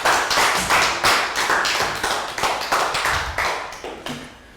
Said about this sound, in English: High five, round of applause for Pat.